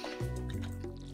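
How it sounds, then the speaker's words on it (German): A watering can pours over crops in the Stardew Valley video game, a brief run of soft wet drips and splashy squelches, close and fairly quiet. "Ich gieße irgendwie an die falschen Stellen"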